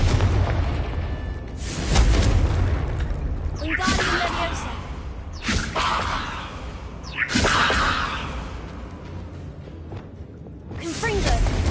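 Confringo spell blasts in Hogwarts Legacy, several booming explosions with whooshing bursts spaced a couple of seconds apart, heard under ongoing talk.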